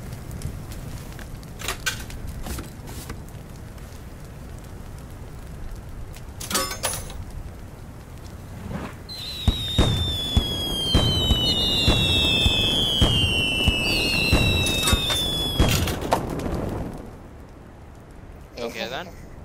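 Roses burning in a fire in the video game Little Inferno, heard as a burst of crackling, popping fiery bursts with whistling tones, loud and busy for several seconds, with a voice talking over the start.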